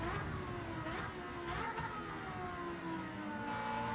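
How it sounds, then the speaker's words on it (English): A Porsche race car engine in Gran Turismo 7 on the Sardegna Road A track, revving sharply with a steady rising and falling whine, held fairly quiet and continuous throughout. "Really a sharp revving engine this."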